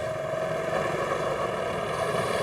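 Small go-kart engines drone steadily at a seaside kart track beside a beach, a continuous buzzing whine with no break, fairly loud and moderately near, with no voices.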